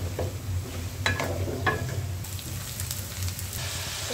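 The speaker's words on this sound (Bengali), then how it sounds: "আধা চামচ পরিমাণ লবণ দিয়ে মাংসগুলোকে কিছুক্ষণ কষিয়ে নিব" Meat sautéing in a pan with chili and salt sizzles steadily. Several sharp scraping stirs of a utensil sound over it.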